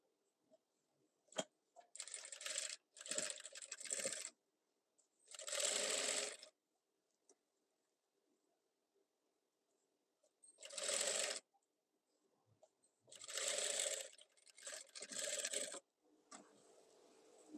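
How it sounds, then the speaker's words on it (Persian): Sewing machine stitching along the edge of a trouser zipper, in several short bursts of steady mechanical whirring separated by pauses, close and fairly loud with no talking. "میتونید لبه زیپ رو دوخت کنید فقط به برگه"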